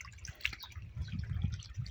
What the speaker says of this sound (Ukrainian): тече вода в ставочок